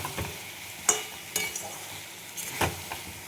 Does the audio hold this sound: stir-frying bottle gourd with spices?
yes